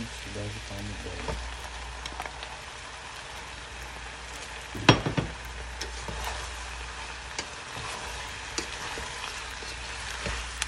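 Peppers and tomatoes fry in a pan with a steady low sizzle and occasional stirring scrapes, with one louder clatter near the middle; no talk.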